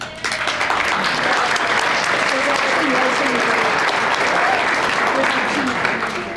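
An audience at the 2010 St. Paul Neighborhood Honor Roll ceremony applauds a District 10 honoree, Marcy Mysick; steady crowd clapping runs throughout, with voices talking faintly underneath.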